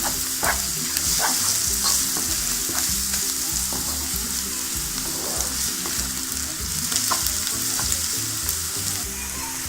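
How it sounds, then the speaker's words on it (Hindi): Continuous sizzling of garlic-ginger paste frying in oil, with a faint low hum beneath and occasional stirring scrapes, no one speaking. "इसको भी थोड़ा सा फ्राई करना है, लहसुन अदरक का फुल फ्राई हो जाए"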